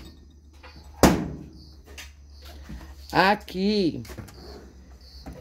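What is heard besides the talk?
drawer being opened in a ranch kitchen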